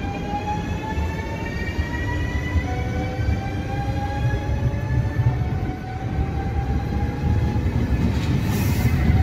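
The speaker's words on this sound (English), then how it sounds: "here's the train that brought us here." A train rolls steadily along, a continuous rumble with faint high whining tones from the wheels, loud and close with no talking.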